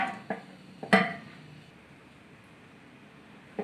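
A metal pot lid is set down over boiling chicken yakhni for pulao, with a few sharp clinks and one louder clattering knock near the start, then a quiet pause and a final light clink.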